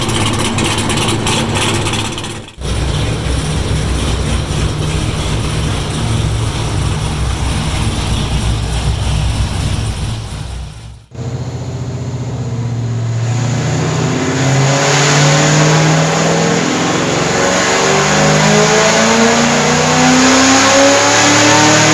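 A Camaro engine with an upgraded heads and cam package revs hard on a dyno, a loud sustained roar in two long pulls with a short break, the second climbing steadily in pitch through the gears.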